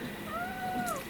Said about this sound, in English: You're such a sweet cat.